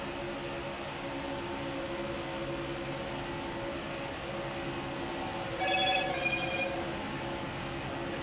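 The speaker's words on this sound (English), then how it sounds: "Turn that notification volume down" A phone notification chimes briefly, a short cluster of bright tones about two-thirds of the way through, over the steady drone of a NASCAR Heat 5 race at Talladega.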